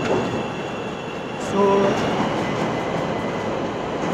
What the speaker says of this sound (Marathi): ती मागे जी बघताय ती इकडची मेट्रो आहे.